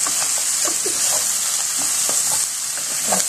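Sweet potatoes sizzle steadily in a hot pan while a utensil stirs them, with scraping strokes rising briefly above the continuous close frying hiss.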